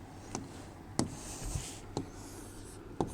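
Marker or chalk strokes on a board during a biology class, a few short scratchy writing strokes spaced about a second apart, close and fairly quiet with no talk.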